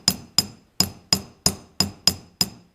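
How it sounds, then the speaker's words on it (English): A hammer taps a metal phoenix pendant flat against a hard flat surface, nine sharp ringing strikes at an even, unhurried pace, each with a short metallic decay, close and clear with no talk. "then we'll just take a hammer and tap it"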